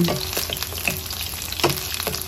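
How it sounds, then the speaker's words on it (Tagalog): Steady sizzling and crackling of eggplant frying in hot oil, with occasional light clicks and stirring noises. "first, prito muna natin yung talong."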